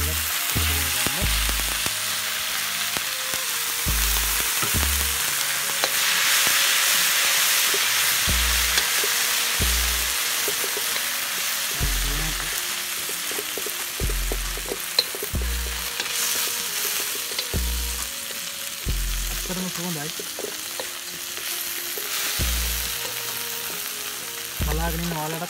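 Potato leaves sizzle steadily in hot oil in a pan with browned onions, with repeated scraping stirs at intervals throughout, close and continuous, no talking.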